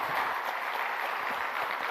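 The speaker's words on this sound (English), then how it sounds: "A big round of applause once again for the Honorable Union Minister Nitin Gadkari ji" Steady, broad applause from a conference audience for Union Minister Nitin Gadkari, a sustained wash of many hands clapping at even loudness, heard alone without speech.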